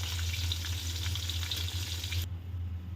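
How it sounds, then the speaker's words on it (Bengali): Pointed gourd (potol) frying in hot oil gives a steady, dense sizzle close up, with faint stirring under it; the sound cuts off sharply near the end, leaving a quieter hiss. "চলুন তাহলে আস্তে আস্তে পটলগুলো ভেজে নেওয়া যাক"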